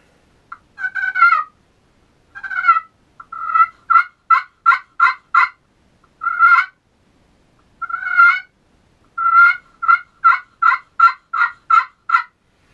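Aluminum pot turkey call played in a series of clear, sharp yelps and clucks, short bursts separated by pauses then rapid runs of notes, loud, close and bright with no talking.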